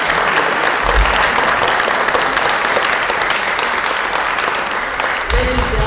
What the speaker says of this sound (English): And let's give Libby a round of applause.